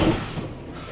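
A truck's fifth wheel coupling snaps shut in a single short, dull thud, close by, with no talk.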